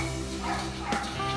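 Rottweiler puppies give short yips and bow-wow barks, close and moderately loud over steady background noise, with a sharper burst near the end.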